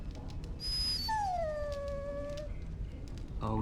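A dog in the video game Dragon Age: Origins lets out a drawn-out, falling whimpering whine, clear and close over soft ambient game sound.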